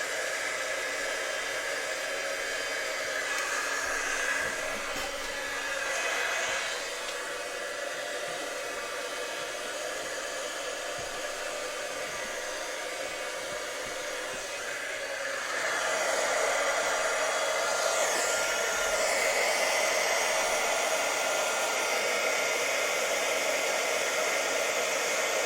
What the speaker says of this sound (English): I'm going to get my heat tool and let it warm up for just a bit.